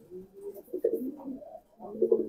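A large male pigeon coos up close in a loft, giving a few low throaty rolling coos in two bursts separated by a short pause.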